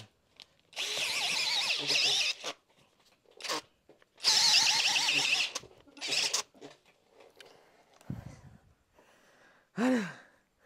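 A Dongcheng DCJZ2040i power drill with a spade bit drills deep, whining in two long bursts with shorter spurts between, loud and close, with a few heavy breaths and sighs in the pauses.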